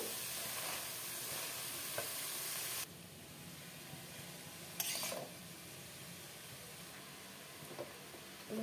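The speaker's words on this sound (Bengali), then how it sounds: "দিয়ে দেবো কেটে রাখা বাঁধাকপি। একটু উলট পালট করে নেব।" Chopped cabbage tossed into tomato masala in a hot pan for a Bengali vegetarian cabbage dish, giving a steady close sizzle with soft stirring scrapes, which drops to a quieter hiss partway through.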